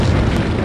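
A mine thrower shot bursts in Resident Evil 4, a short, loud, dense explosive boom filling the whole brief moment.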